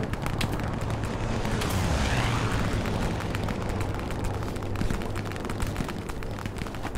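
Continuous heavy rumbling of artillery bombardment in the World War II shooter Hell Let Loose, dense overlapping blasts and roaring debris filling the whole stretch with no pauses.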